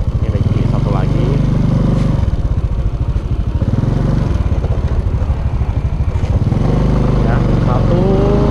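Underbone motorcycle engine downshifting while riding, revs rising and falling in repeated surges with choppy engine pulses between shifts, close and loud, someone talking over it.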